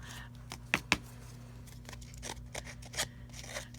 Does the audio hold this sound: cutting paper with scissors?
yes